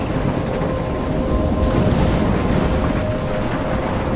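A thunderstorm in the video game Life Is Strange gives a steady, loud roar of heavy rain and wind. Deep rumbling runs continuously underneath, with no pause and no voices.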